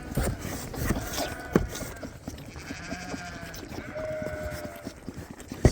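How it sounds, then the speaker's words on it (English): Sheep bleat repeatedly, several calls close by on a farm at evening as the flock is penned for the night, with brief knocks and shuffling between the calls. "So we're just going to get these sheep locked up for tonight."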